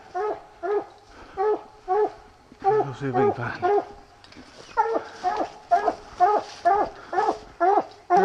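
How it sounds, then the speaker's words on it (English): A coonhound pup barks and yips repeatedly at a tree while hunting at night in the Kentucky woods, giving short rhythmic bursts with a few high whimpers in between. Someone speaks briefly over the barking. "Pup's wanting the tree a little bit."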